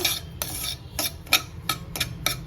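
A spoon scrapes and clinks against a pan as roasted semolina is stirred, making a series of about seven sharp, evenly paced strokes close up with no talking.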